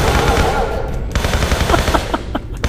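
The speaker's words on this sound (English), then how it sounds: "This way I'm going to use my pistol." Pistol gunfire in the game Tomb Raider III, a rapid run of sharp shots over game noise, loud and close, with a few separate cracks near the end.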